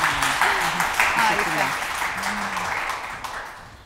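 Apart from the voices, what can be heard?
applause in the studio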